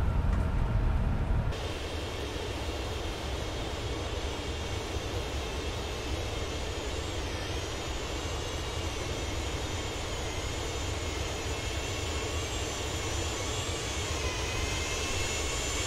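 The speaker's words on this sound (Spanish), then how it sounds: "y escucho como otro avión que viene ahí" Another airplane passes by in Microsoft Flight Simulator, heard as a steady, moderately quiet jet engine drone with a faint high whine that persists unchanged throughout the flight, with no voices.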